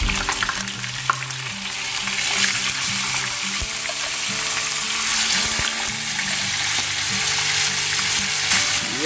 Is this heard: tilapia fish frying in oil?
yes